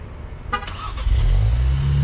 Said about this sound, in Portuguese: Acionou a buzina